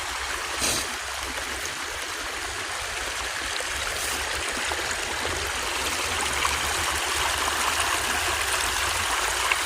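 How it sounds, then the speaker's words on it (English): Clear creek water flows and burbles steadily nearby, a continuous rushing trickle with no voices, slightly fuller toward the end. "just listening to the water."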